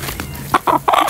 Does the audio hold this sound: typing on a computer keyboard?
no